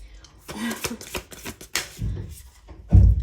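A deck of tarot cards being shuffled up close, with brisk papery riffling bursts and a couple of heavier thumps near the end, with no talking.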